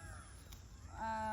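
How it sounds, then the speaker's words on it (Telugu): Birds call faintly from behind an organic vegetable garden plot, thin drawn-out notes in the distance under quiet outdoor ambience. "మీ వెనకాల పిట్టలు నెమళ్ళు భలే అరుస్తున్నాయి అనేసి అంటారు."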